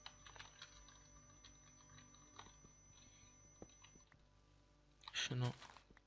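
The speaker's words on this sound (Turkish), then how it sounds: "Hayvan gibi klavye sesi geliyor." Soft, irregular clicks of keyboard typing run through the clip at low volume, followed near the end by a brief louder burst.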